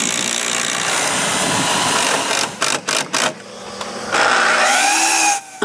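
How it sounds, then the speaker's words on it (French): A power drill drives screws up through the floor of a wooden patio from underneath, giving several short whirring bursts near the middle of the stretch between steadier machine noise, close and loud. "puis il visse au plancher par en dessous"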